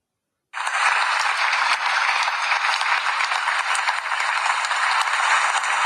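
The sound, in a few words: round of applause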